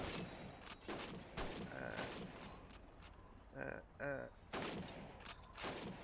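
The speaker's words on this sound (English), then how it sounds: "I'm gonna shoot the bottle." Rifle fire at bottles on a shooting range in Call of Duty 2, several sharp gunshot bursts with breaks between them, each followed by glass smashing.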